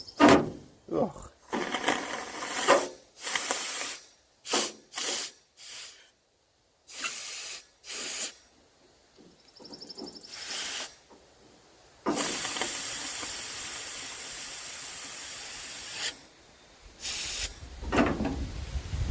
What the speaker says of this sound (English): let me shoot some compressed air